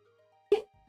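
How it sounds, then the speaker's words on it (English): One short, sharp sneeze bursts out close to the microphone in a quiet kitchen, set off by spicy ground ginger and cinnamon while baking, with near-silence before and after. "gonna sneeze. It's so spicy."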